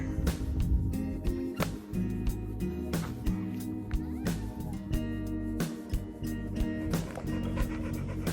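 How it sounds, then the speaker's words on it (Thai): A dog panting after a long morning walk at a Thai campground, steady rapid breaths under continuous background music and ambient noise, close and moderately loud. "ฮันเตอร์ก็เริ่มเหนื่อยแล้วนะคะ หอบแขกแขกแขกแหกเลยค่ะ"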